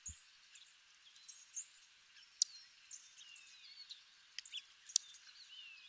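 A Savannah sparrow gives faint, sharp smacking calls, a few brief clicks spread across a soft wash of high chirps and twitters in quiet open surroundings.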